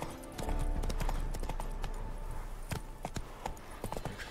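Galloping horse hooves in The Witcher 3 video game, a steady quick clip-clop rhythm running close and fairly loud from start to end, with a brief whinny-like sound and faint game ambience underneath.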